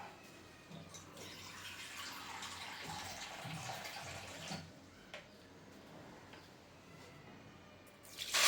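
Water poured from a cup onto two cups of sugar in a pan for syrup: a soft, steady trickling pour lasting several seconds, faint and close, ending in a brief louder clatter.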